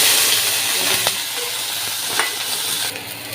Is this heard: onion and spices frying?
yes